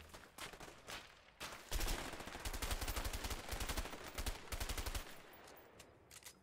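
Gunfire in the video game A Way Out, rapid bursts of shots and automatic fire, loud and dense through the middle and tapering off toward the end.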